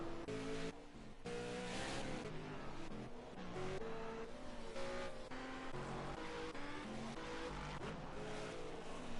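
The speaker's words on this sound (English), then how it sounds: "Bojan is making his way up here, but he's in a Gt4" A GT4-class race car drives the Monaco street circuit, its engine droning loud and continuous with shifting pitch as it runs through the lap.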